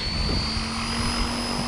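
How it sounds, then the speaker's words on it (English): RC helicopter on its maiden flight spooling up, a steady close drone with sustained high whine tones and rotor buzz, continuous and even in level, no talk. "Helicopter is spooling up."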